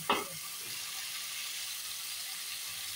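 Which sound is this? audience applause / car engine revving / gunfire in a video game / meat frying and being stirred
meat frying and being stirred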